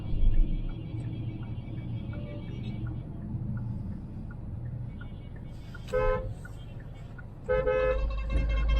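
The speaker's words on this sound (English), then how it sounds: "Horn feels nice. It's decent but not loud though." The horn of a Hyundai Creta diesel with manual gearbox gives two short toots over a low cabin engine rumble, a moderate honk heard from inside the car.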